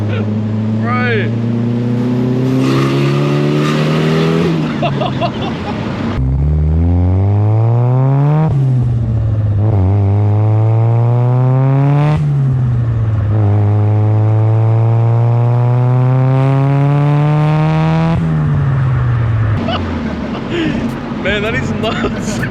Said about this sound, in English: You get every noise out of this car.